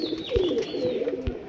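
High flyer pigeons coo in soft, throaty phrases close by, a low warbling murmur that swells and rolls on without a break through the moment.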